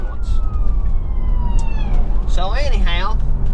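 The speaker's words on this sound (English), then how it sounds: "And here comes the ambulance." An ambulance siren sounds loud and nearby, a falling tone followed by rapid warbling yelps, over a constant low engine rumble.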